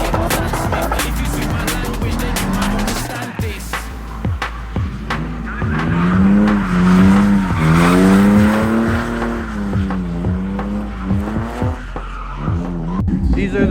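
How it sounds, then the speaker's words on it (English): Cars drifting and understeering through a corner at a Mielec airport drift event, with engines rising and falling in pitch and tyres screeching repeatedly, loud and continuous, with a voice speaking over parts of it. "Everyone seems to be understeering."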